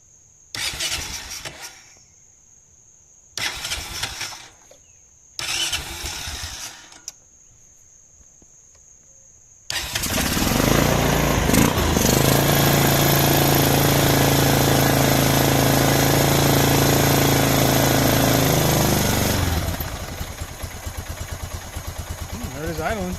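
A Honda TRX ATV fitted with an aftermarket Chinese carburetor, cranked in a few short bursts, then firing up into a loud, steady close idle that carries on for about ten seconds before easing slightly, with crickets chirping throughout.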